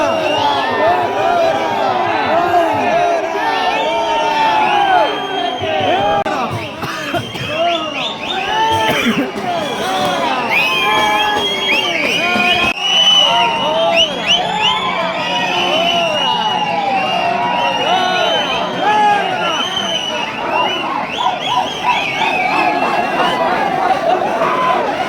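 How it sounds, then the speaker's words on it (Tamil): A dense crowd of devotees at the Thaipusam festival shouts and chants Muruga, a loud, continuous wall of overlapping voices with rising calls and cheers throughout. "எல்லா பக்தருமே முருகா முருகான்னு ரொம்ப கத்த ஆரம்பிச்சிட்டாங்க"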